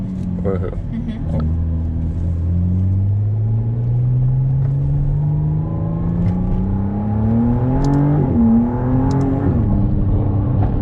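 A McLaren Artura hybrid supercar accelerates hard on a public road, heard from inside, its engine note climbing steadily in pitch through the gears with a brief shift, loud and continuous, while someone speaks over it.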